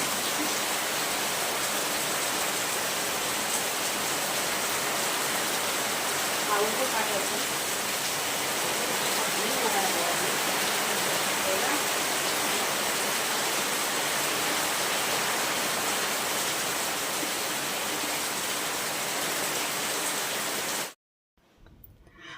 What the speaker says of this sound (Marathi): जोरदार असा मुसळधार पाऊस बघा बाहेर चालूच होता